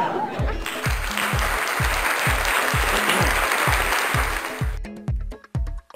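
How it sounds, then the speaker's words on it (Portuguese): Children clapping together in a classroom, a dense burst of applause lasting several seconds over a steady rhythmic beat, then cutting off abruptly near the end. "Meninas e meninos, uma salva de palmas para..."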